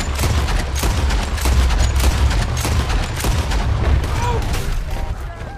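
Rapid lever-action fire from a Lancaster Repeater rifle in Red Dead Redemption 2, dense overlapping shots cracking continuously and loudly with booming echoes throughout.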